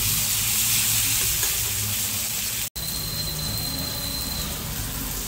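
Tomato frying in a pan until soft, a continuous close sizzle with occasional stirring, briefly cut by a momentary dropout midway, then sizzling on steadily.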